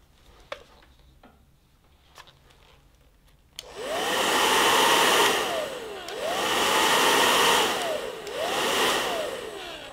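After a few faint ticks and clicks, a hair dryer starts abruptly and blows loudly on a temperature sensor. Its steady roar swells and dips in three long waves as it is moved back and forth.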